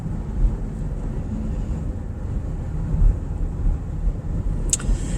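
Steady road rumble and wind roar of traffic streaming past on a highway, a continuous near wash of tire and engine noise with no voices.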